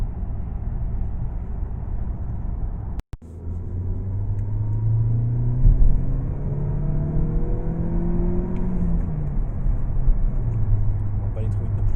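A nearly new Mazda3 100th Anniversary edition engine drones steadily from inside the car while driving, with a low rumble that rises as it accelerates and a brief sharp knock early on.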